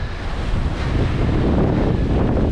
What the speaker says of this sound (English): This is a barren coast.